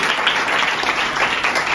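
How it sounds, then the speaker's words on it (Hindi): A church congregation claps loudly and briskly during a Sunday worship service, a dense, continuous burst of applause lasting under two seconds. "प्रभु के लिए जोर से ताली बजाएं।"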